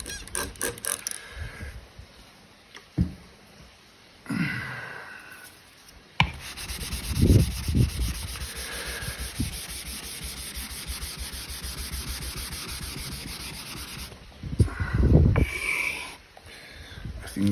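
An Iwasaki 80 straight razor is stroked across a Nakayama Maruka Asagi whetstone with light slurry, giving soft, steady rubbing and scraping strokes in bursts, close and fairly quiet, with brief pauses between passes.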